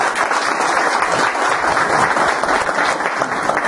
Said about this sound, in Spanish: Un aplauso para ellos de que vienen ahí.